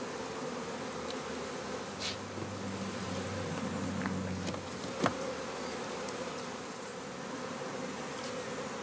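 Honeybees buzz steadily around a queen being readied for shipment in small yellow cages, a dense continuous drone with a faint hum beneath and a brief knock near the middle.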